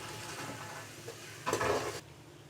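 Onions frying in a pan over a low flame while mutton kaleji masala is being made, giving a steady soft sizzle with a louder burst of stirring and spattering in the middle, then easing off.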